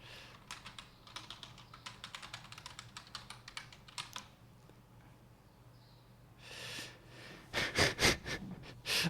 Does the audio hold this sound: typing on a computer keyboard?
yes